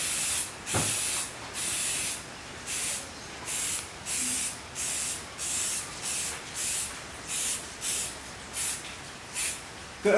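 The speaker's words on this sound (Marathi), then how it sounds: "1 फुटावर अंतरावरून हा कलर स्प्रे करायचा आहे" Repeated short bursts of a spray can applying paint to a bull's horns, about a dozen evenly spaced hisses of similar length with brief pauses between, close and steady, with no talking.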